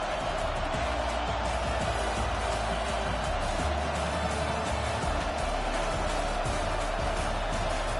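A stadium crowd roars in a sustained, dense wash of noise at a college football game, loud and continuous, with faint broadcast commentary underneath.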